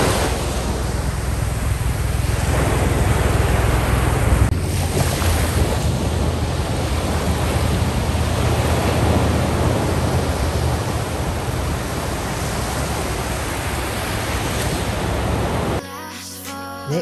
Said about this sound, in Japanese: 海の音ちょっと良くないですか